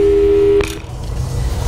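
A steady telephone tone in the Portal 2 video game holds for a moment and then cuts off abruptly, loud and close, followed by faint background hum.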